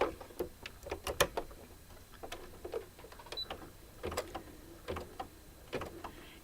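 Embroidery machine stitching a maple leaf appliqué coaster, a quiet run of sharp needle ticks and clicks in an uneven, busy rhythm with brief pauses.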